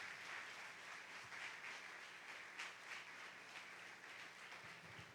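Soft, distant applause from a church congregation welcoming their pastor during an evening worship service, a steady faint patter of many hands with a low hum beneath.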